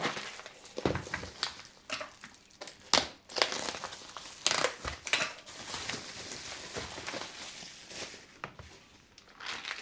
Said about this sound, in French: Donc je vais en déballer un, je ne vais pas déballer les deux